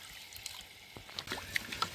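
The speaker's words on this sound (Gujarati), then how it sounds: "બરાબર ભાતને ધોઈ નાખીએ" India Gate rice for Kutchi khari bhat is rinsed in water outdoors at a farm, with faint, scattered sloshing and trickling splashes that grow slightly busier toward the end.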